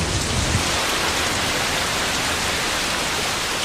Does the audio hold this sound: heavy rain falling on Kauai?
yes